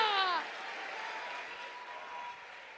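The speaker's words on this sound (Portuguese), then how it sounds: "Misture essas palmas com glória a Deus e aleluia." A church congregation applauding during a worship service: a sustained, even wash of clapping that follows a brief voice at the start and continues steadily at moderate volume.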